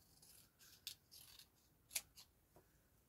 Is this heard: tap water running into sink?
no